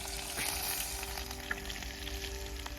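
Curry leaves and homemade spice masala frying in oil at a night campfire cookout: a soft, continuous low sizzle with faint background hum and an occasional small click, no voices.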